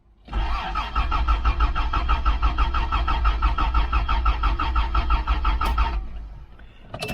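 Toyota Land Cruiser engine cranking with a rapid, even chugging starter rhythm for several seconds, close and loud, before cutting off; no talk.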